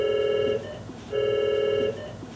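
A telephone call rings out with two long, even ring tones separated by a short pause, close and clear over faint background noise.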